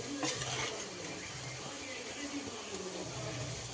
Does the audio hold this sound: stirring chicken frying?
yes